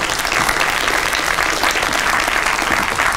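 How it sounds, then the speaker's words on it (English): An audience claps steadily and fairly loudly for a few seconds at a talk, producing dense, continuous applause with no voices over it. "a round of applause for Miles."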